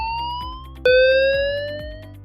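A school evacuation alarm tone sounds loud and close, a rising electronic sweep that restarts sharply partway through and then climbs again, with a faint pulsing pattern beneath it.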